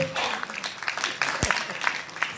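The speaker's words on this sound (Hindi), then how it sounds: "इनके लिए एक जोरदार ताली" Audience clapping, a short burst of scattered applause with uneven claps and a voice briefly audible underneath.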